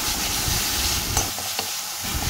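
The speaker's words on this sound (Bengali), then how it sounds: "তারপর একটু কাশ্মীরি লঙ্কার গুঁড়ো আর হলুদ গুঁড়ো একসাথে দিয়ে আবার এটা কিছুক্ষণ ধরে কষাবো" A pomfret curry base of Kashmiri chili powder and turmeric is sautéed in a pan, making a loud, continuous sizzle with scraping stirs running through it.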